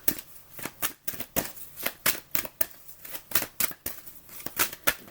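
Playing cards are shuffled by hand in quick repeated riffles and slaps, a rhythmic series of crisp close bursts with short pauses between, and no talk over them.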